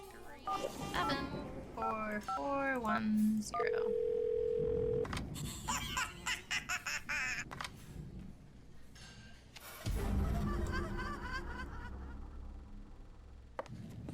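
Telephone number dialed inside the Mystery Case Files: 13th Skull hidden-object game, with short synthesized tones and a steady dial tone near the start, then other game sounds and ambience.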